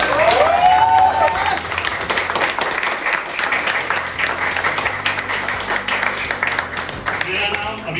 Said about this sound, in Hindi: कविता पसंद आई तो ताली बजाओ, गर्व से कहो।